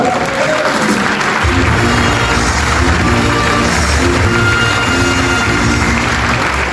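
Sustained audience applause fills a hall after a carnival-evening stage performance, steady and dense throughout with a low crowd rumble beneath, loud and continuous without letup.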